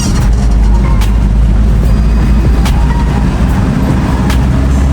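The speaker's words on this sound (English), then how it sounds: "I finally drove a Toyota Siyaya." A Toyota HiAce Siyaya minibus with nearly a million kilometres on it is driving, its engine rumbling low and steady, with continuous road and cabin noise throughout and no talk.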